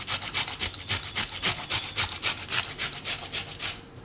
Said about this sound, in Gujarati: એને આપણે આ રીતે ઝીણું જે છીણ થાય એનેથી આ રીતે છીણી લેવું, એકદમ સરસ ઝીણું ઝીણું.